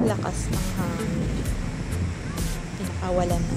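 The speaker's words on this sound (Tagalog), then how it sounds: "Lakas ng hangin." Strong wind at a beach in the Philippines, blowing as a loud, steady rush with gusty buffeting over the microphone and surf behind it, while people talk nearby.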